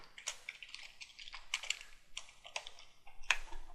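Rapid bursts of typing on a computer keyboard, several short clusters of clicking keys separated by brief pauses, fairly close and clear with no talking.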